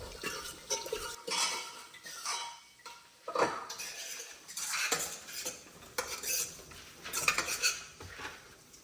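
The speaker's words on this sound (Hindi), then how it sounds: "इसको अच्छे से घोट लेते हैं ताकि ये खड़ी खड़ी ना रहे।" Metal spoon scraping and clinking against a pot in uneven, repeated strokes as boiled lentils are mashed, close by, with no one speaking.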